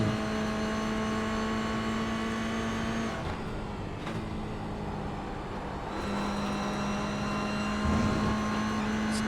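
Toyota GR86 race cars, around 220 horsepower, speeding down the main straight at Snetterton during a GR86 Cup race, a steady engine drone with a car passing near the start and another at the end.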